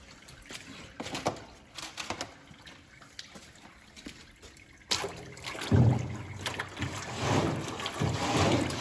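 Water sprays over corn salad crates on a German farm, rinsing away clinging soil and sand; quiet at first, then a loud, continuous rushing splash for the second half.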